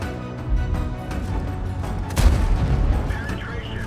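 Tank gun shots from the Object 252U Defender in a tank video game, a few booming reports standing out over continuous battle rumble, one heavy blast stronger than the rest, with a voice talking underneath.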